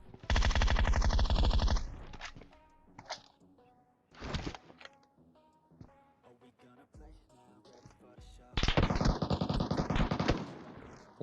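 Automatic gunfire from a PUBG Mobile match, including an MK14 rifle, rips out in loud sustained bursts at the start and end, with single shots and quieter clatter in between.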